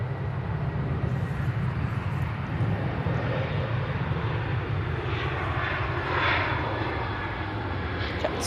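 Airplane taxiing at Manchester Airport, a steady, fairly loud engine rumble and whine that holds throughout and swells slightly near the end, heard from a distance with no talk.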